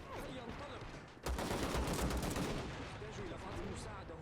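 Heavy gunfire strikes a T-62A tank in a war video game battle in Tripoli: quiet background, then a sudden loud burst of rapid, dense shots at about one second that keeps rattling on and slowly eases, with a voice faintly underneath.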